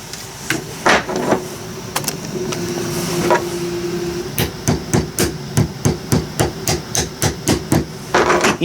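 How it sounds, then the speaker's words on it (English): Sharp hammer blows strike a snug pin on a mini excavator, first a few scattered hits, then a steady run of evenly spaced, close, loud strikes with faint background hum. "I got just the hammer for that"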